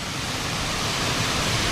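Waterfall in Kanchanaburi, Thailand, a loud, steady broadband rush of falling water filling the whole clip, close by and unbroken, with no voices.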